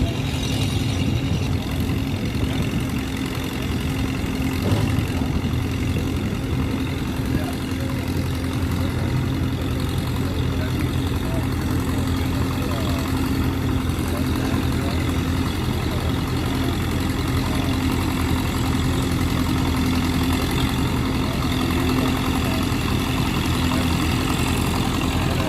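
An antique farm tractor engine idles and runs at an outdoor tractor show and pull, a loud, steady low rumble with a constant mechanical throb that continues unbroken and close throughout, without speech.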